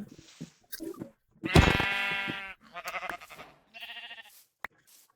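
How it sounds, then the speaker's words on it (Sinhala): Sheep in the Minecraft video game bleat several times, in short separate calls with brief silences between them. One long, loud bleat stands out near the middle. "තව බැටළුවෙක් හම්බුණා"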